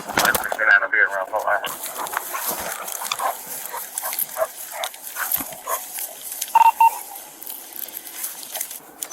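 A police dog barks and yelps in loud bursts close by during a tense arrest, with several people shouting over it throughout.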